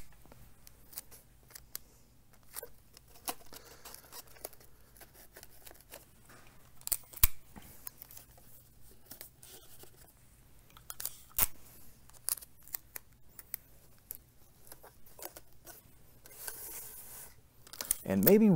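Adhesive tape goes onto a cardboard pulley, making scattered soft rubs, crinkles and short tearing snaps at an irregular pace, with a louder rip near the end over a quiet room.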